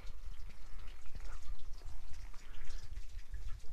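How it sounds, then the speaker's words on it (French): A small mountain stream trickles and flows near a cave on a hiking route, a soft, continuous watery babble with faint drips, fairly close and steady with no talking. "Un petit ruisseau là qui coule."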